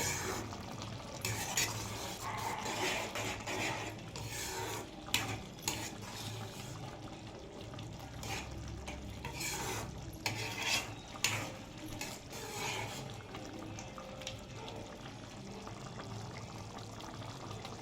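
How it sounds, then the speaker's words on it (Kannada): Rice kesari bath bubbling steadily in a pan with ghee, a soft continuous simmer with scattered small clinks and stirring scrapes, close and fairly quiet. "ಚೆನ್ನಾಗಿ ಕುದಿತಾ ಇದೆ ಇವಾಗ ಎಣ್ಣೆ ಬಿಟ್ಕೊತ ಇದೆ"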